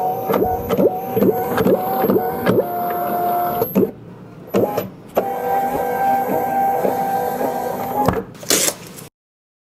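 Munbin thermal printer printing shipping labels, with repeated whirring feed bursts broken by short pauses and clicks, close and clear with no talking.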